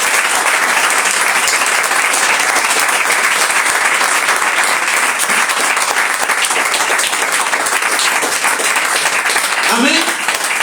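A church congregation claps for the King during a Spanish-language sermon, loud continuous applause filling the room for the whole stretch, with cheering voices mixed in and a brief shout near the end.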